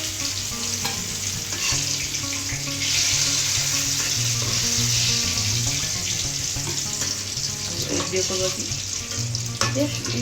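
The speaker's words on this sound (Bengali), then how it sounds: "তারপরে আলুটা একটু ভাজবো।" Potatoes fry in a pan with a continuous loud sizzle, stirred now and then, the crackle steady throughout with no one speaking.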